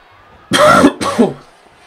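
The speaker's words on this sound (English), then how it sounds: "Excuse the cough, guys, if you heard that." Two loud, close coughs in quick succession, the second slightly weaker, with near silence around them.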